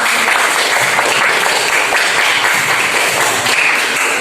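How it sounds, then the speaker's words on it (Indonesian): Students in a classroom during a mathematics lesson clap for their classmates, a loud, dense burst of hand clapping that continues steadily throughout without talk. "Tepuk tangan untuk teman-teman."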